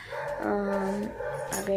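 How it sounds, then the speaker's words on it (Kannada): A dog barks in a home, a few short yips and whimpering barks close by, mixed with someone talking over them. "ನಾಯಿ ಕೂಡ ಬೊಗಳ್ತಾ ಇದೆ ಆವಾಗಿಂದ."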